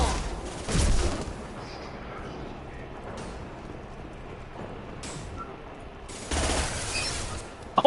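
Rapid gunfire bursts in Mass Effect 2, loud at the start and again near the end, with a steadier crackle of combat noise between them.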